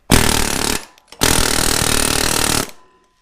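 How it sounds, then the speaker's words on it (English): Pneumatic air hammer with a chisel bit firing in two loud, continuous bursts, the first short and the second about one and a half seconds long, separated by a brief pause and ending abruptly. "you just take your air hammer"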